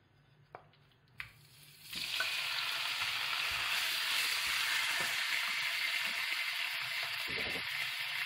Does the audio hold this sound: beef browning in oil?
yes